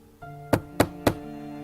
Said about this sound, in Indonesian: Aku pun mulai mengetuk pintunya.